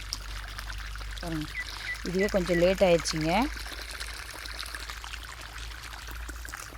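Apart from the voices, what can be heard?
irrigation water pouring into maize field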